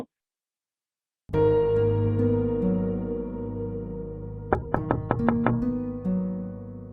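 A quick burst of about five sharp knocks on a door partway through, set over a sustained background music score, close and distinct, with a single thump a moment later.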